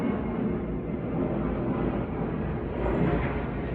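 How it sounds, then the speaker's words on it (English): A low, muffled roar of an airplane passing overhead, heard from indoors, steady and moderately faint, with no voices. "Yes, that's the airplane, and it comes very, very often"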